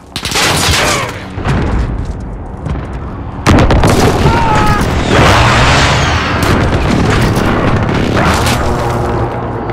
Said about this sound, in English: Inbound. Enemy precision airstrike.